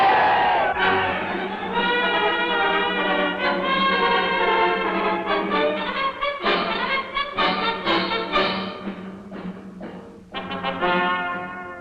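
A large crowd cheers and shouts for Indonesian independence, a dense, loud, sustained roar of many voices with rising bursts of yelling throughout.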